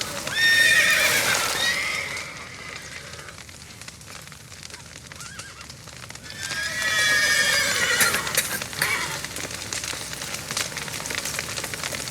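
Horses whinny loudly twice in The Witcher 3 video game, a shrill neigh early and another later, with hooves clip-clopping and a crackling background throughout.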